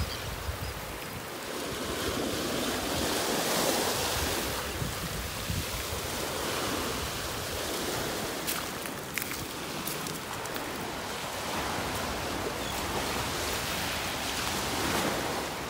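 Surf and gusting wind on a North Naples beach during Tropical Storm Gordon, a constant roar of breaking waves with heavy wind noise on the microphone and occasional sharper gusts.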